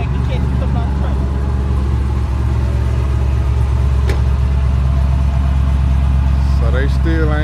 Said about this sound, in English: back this old Chevrolet. Back off this trailer.